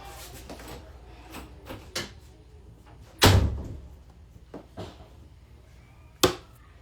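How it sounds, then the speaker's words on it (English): A door in a home is pushed shut with a solid thump, set among quieter knocks and bumps in a room, with no talk. "Close my door."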